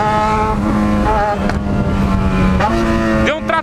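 A Yamaha XJ6 motorcycle engine revving loud and close, its steady drone rising in pitch in several climbs with brief dips between them, like repeated accelerations.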